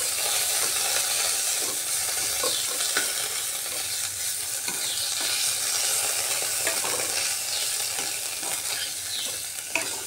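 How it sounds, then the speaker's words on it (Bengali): Sidol, a fermented fish, frying in a pan with onion and green chilli for an ash gourd curry, giving a steady, close sizzle with stirring scrapes and crackles throughout, no voices. "এখানে 2-3টে শীতল আমি এর মধ্যে ভেজে নিচ্ছি"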